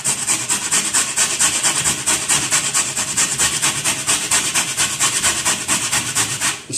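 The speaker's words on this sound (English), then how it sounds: "just a normal cheese grater, just on the smaller whole section, you can actually just grate them into fine pieces of coconut" Coconut is rubbed against the small-hole side of an ordinary cheese grater in quick, even scraping strokes, about three per second, close up and steady throughout.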